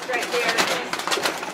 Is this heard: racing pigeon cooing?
yes